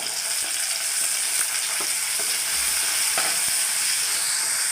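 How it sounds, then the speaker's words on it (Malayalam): Shallots and green chilies sizzle steadily in a pan for a coconut-based prawn curry. The frying hiss is continuous and close, with a few faint stirring scrapes and no voices. "അല്പം ഇനി കുറച്ച് നമുക്ക് കൊച്ചുള്ളി അങ്ങോട്ട് ഇട്ട് വഴറ്റാം."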